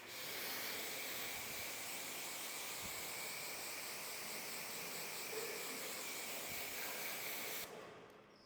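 Water sprays steadily from a hose, rinsing car soap off a car in a continuous close hiss that holds for several seconds before cutting off near the end.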